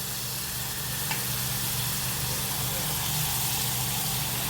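Onion sautéing with crushed ginger and garlic for carrot and beans biryani gives a steady, close sizzle and hiss in the pan, continuous and even throughout with a faint stirring click.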